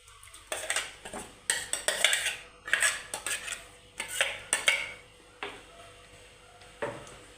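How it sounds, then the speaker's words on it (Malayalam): A mixer jar is rinsed and its contents poured into a pot of roasted-coconut kadachakka (breadfruit) curry, with a run of close, sharp clinks and knocks of metal vessels and utensils, irregular and busy, with no talking. "ചെറുതായിട്ട് ജാറ് കഴുകി നമുക്ക് ഒഴിക്കണം ഇത്"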